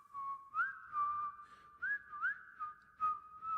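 A man whistles a meandering tune close by, in short rising and falling phrases with brief pauses between them.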